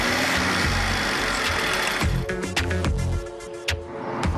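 A Volkswagen 1.0 TSI three-cylinder 115 hp Bluemotion petrol engine runs steadily up close, with an even hum and light mechanical ticking that dips slightly in level partway through.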